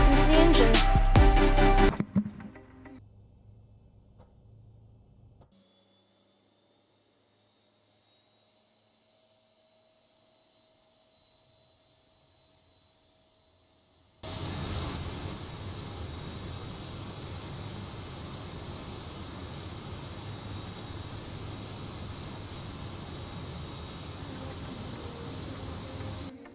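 Boeing 737-800 Zibo mod engine start in X-Plane 11 flight simulator: a loud burst, then near silence with a faint rising whine, followed by a sudden steady roaring rumble that holds to the end.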